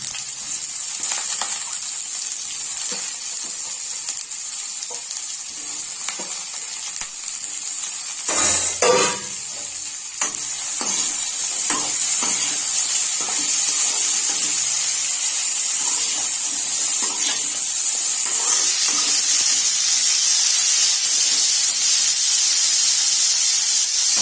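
Diced potatoes sizzle and hiss steadily in a hot pan, with a brief burst of stirring and clatter partway through before the frying settles back.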